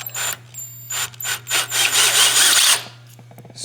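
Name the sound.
power drill enlarging a hole in a clamp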